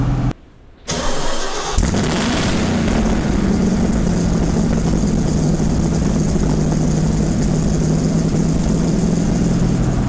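A 1969 Ford Mustang Boss 429 V8 cranks and catches on a cold start, then settles into a loud, steady, rumbling exhaust idle that holds evenly for the rest of the clip, close up with no talking.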